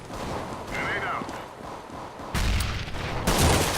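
Bursts of gunfire in a Counter-Strike: Global Offensive 5v5 match, sharp volleys rising toward the end, heard under players talking in Turkish.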